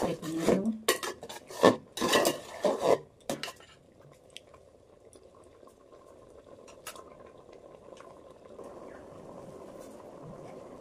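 A metal lid is lifted off a pot of cooked dal, giving a few loud clanks and scrapes of metal on metal, followed by a quiet low simmering hiss from the open pot.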